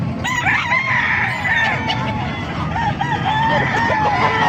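Many chickens at a poultry market in Calumpit, Bulacan, with roosters crowing repeatedly and hens clucking over a loud, busy background of birds.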